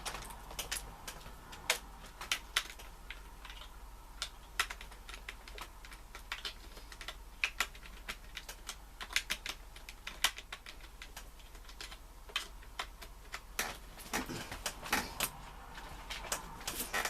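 Computer keyboard keys clack in irregular bursts of sharp taps while Gunship is played on a ZX Spectrum emulator, 128K version, over a quiet background with no talking.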